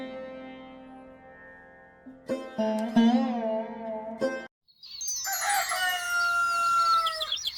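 A rooster crows close by, long drawn-out calls, followed by a higher burst of crowing mixed with other bird chatter after a brief pause.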